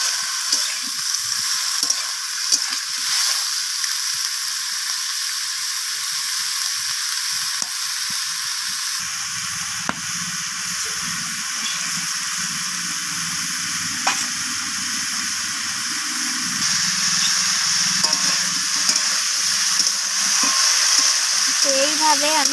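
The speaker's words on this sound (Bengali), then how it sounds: "বেগুনটাকেও দেওয়ার পর আমি এইভাবে নাড়াচাড়া করে নিচ্ছি।" Cut eggplant stir-fried in oil in a pan, a loud continuous sizzle close by with occasional scraping and clinks from stirring throughout.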